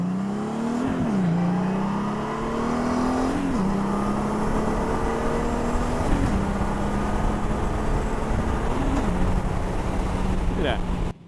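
A motorcycle pulls away in first gear, its engine a steady close drone that climbs gradually in pitch with small periodic wavers, over constant wind rush.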